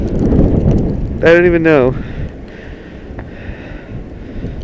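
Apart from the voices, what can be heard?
strong cold blizzard wind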